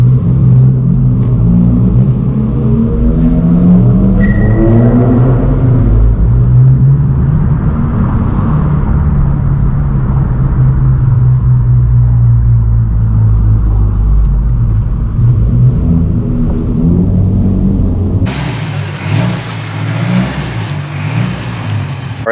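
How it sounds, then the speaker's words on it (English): Engine and turbo noise from a 10th gen Honda Civic Si while driving, a continuous loud rumbling drone with rising and falling revs, heard from inside the car. "My turbo noise, boy."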